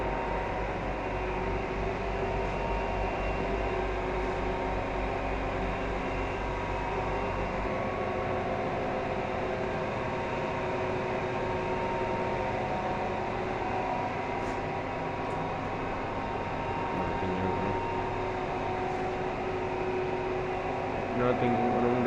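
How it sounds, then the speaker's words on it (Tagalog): A noisy air conditioner and electrical panel blower running in an electrical room, a steady broadband hum and whoosh that holds evenly throughout, with faint clicks. "Maingay yung aircon."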